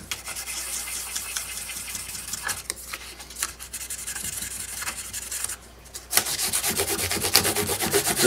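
A guitar fret is rubbed with fine 1200-grit sandpaper in close, scratchy back-and-forth strokes that pause briefly and then resume more loudly.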